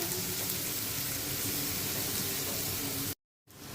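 Onions frying in oil for a beef dish, a steady broadband sizzle close by that runs unbroken and then cuts off briefly near the end.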